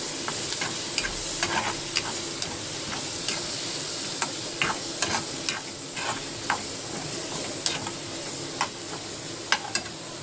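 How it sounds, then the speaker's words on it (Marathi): Onion, tomato and pounded chili with garlic fry in a pan for eggplant bharit, a steady close sizzle broken by sharp, regular clicks and scrapes of a stirring spoon against the pan. "कांदा भाजलाय मस्तपैकी, टोमॅटो टाकलाय त्याच्यामध्ये आणि हे बघा मिरची लसूण कुटून टाकलेलं आहे थोडंसं"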